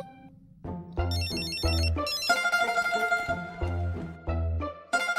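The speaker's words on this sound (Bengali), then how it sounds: "ছোট কর্তার ফোন আসছে মনে হচ্ছে।" A telephone rings in repeated electronic bursts, loud and close, each ring separated by short gaps, with no talking.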